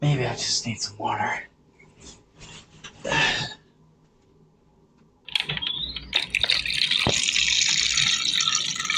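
A faucet is turned on and water runs in a steady, bright splashing stream into a sink, following a stretch of whispered speech and quiet pauses.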